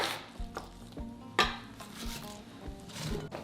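Falafel ingredients of mint, garlic and onion are stirred in a bowl, giving soft scraping and a few light clinks of utensil against dish, faint and close, with no talking.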